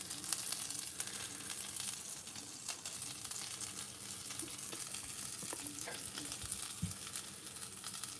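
Leftover Christmas dinner reheating in a frying pan, a steady close sizzle and crackle running throughout with occasional small pops, no voices.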